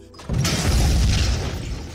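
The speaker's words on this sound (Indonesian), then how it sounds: "Tiba-tiba drone mereka meledak dikarenakan radiasi yang sangat tinggi." A loud, sudden explosion of a drone bursts out and rumbles on with a crackling, crashing roar that slowly fades.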